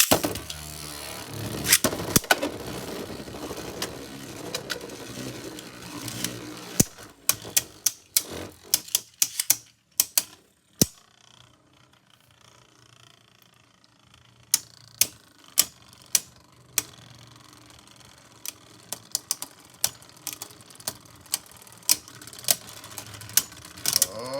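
Beyblade Burst spinning tops, including Poison Cobra, clatter in a plastic stadium: a loud rattling clash at the launch, then a quieter whirring spin broken by a string of sharp clicking knocks as they collide and scrape.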